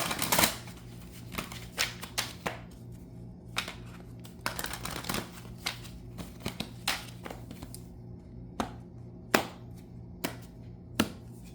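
Tarot and angel cards are handled and shuffled, making a quiet run of papery riffles and soft flicks and taps that come in scattered bursts against a low background hum.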